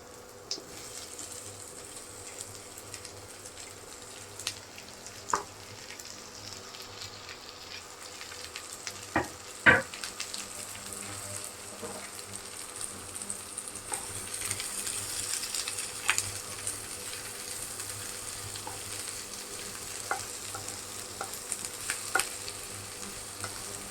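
Chopped onions frying in a pan for a spicy mutton roast, giving a steady soft sizzle with occasional stirring scrapes and clicks, quiet and close, with no voices.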